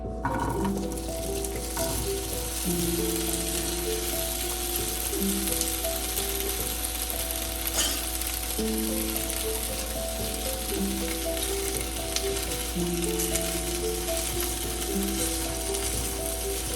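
Pieces of arbi, or taro root, fry in hot oil with a steady, even sizzle throughout, while separate tonal sounds step in and out over the hiss.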